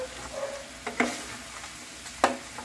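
Korean spicy chicken being stirred in a hot pan, a soft continuous sizzle broken by two sharp scraping clacks of the utensil against the pan.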